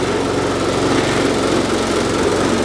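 A Briggs & Stratton 450 series lawn mower engine runs steadily after starting, a loud, close, rough drone with a low mechanical throb and no voices.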